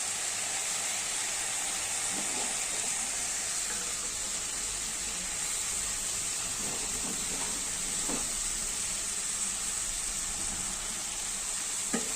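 Soaked split moong dal dropped into a hot pan sizzles steadily with a broad hiss and a few soft stirring scrapes, close and even throughout, with no talking.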